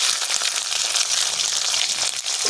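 Shrimp dropped into a hot pan with fried garlic, giving a steady, close, loud hiss and sizzle of frying oil with no pauses.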